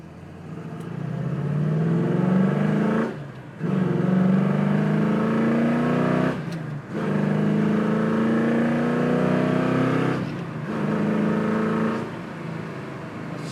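A 1971 Chevrolet Camaro Z28 V8 engine revs up through the gears from inside the car, loud and steady, with three brief dips at the shifts and no talking.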